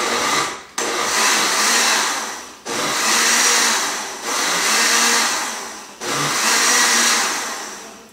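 A kitchen blender grinds salsa roja in four loud pulsed bursts, each a roaring whir that starts abruptly, winds down, then cuts off before the next pulse.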